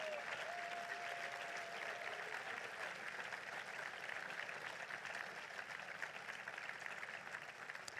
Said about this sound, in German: Da klatscht sie noch und lächelt